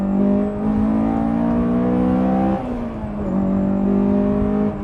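A Honda S2000 sports car engine howls at high revs, a steady loud whine that dips briefly and climbs again, close and continuous.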